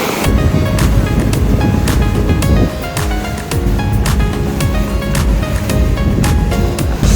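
A boat crosses calm sea toward an island off Linapacan, Palawan, with a loud constant engine drone, rushing water and wind buffeting the microphone throughout.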